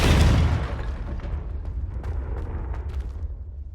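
A Confringo spell from Hogwarts Legacy detonates in a loud fiery blast, a heavy boom at the start trailing into a long rumbling, crackling decay with scattered pops, and no voices over it.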